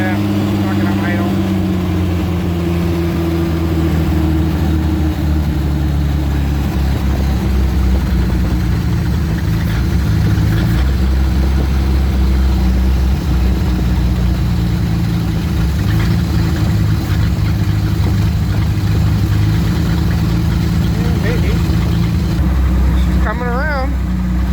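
On a 1976 Mustang II Cobra with a carburetor built from used parts, the engine runs loud and rough without settling into an idle, its uneven rumble steady and close while a voice talks over it.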